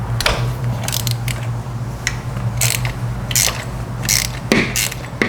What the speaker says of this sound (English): Now we're going to turn counterclockwise and take the spark plug out